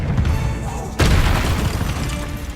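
A spell cast in the Hogwarts Legacy video game lands as a loud, booming magical blast about a second in, with a rumbling low crash that trails off over steady game ambience.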